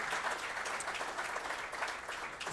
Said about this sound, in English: So just a very quick round of applause before we go into question and answer.